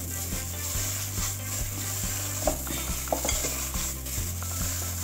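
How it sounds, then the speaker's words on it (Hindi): Aloo tikki mixture being stirred and mixed, a close, steady scraping and sizzling texture with a few soft utensil taps against the bowl and no voices. "अच्छे से हम इसे मिक्स कर लेंगे।"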